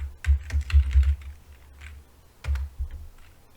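Keystrokes on a computer keyboard entering a terminal command, in two quick bursts of close, crisp clicks separated by a short pause, with no voices.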